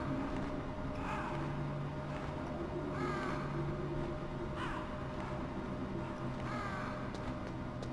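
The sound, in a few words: crows cawing in the video game Metal Gear Solid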